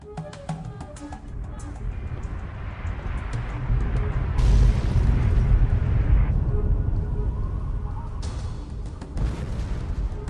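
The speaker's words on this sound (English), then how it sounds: "a control station at the top can be used to call an orbital strike down onto the base itself" An orbital strike in Fallout 3 levels a base, with a sustained roaring blast and rumbling debris that swells and holds heavy and loud for several seconds before easing off.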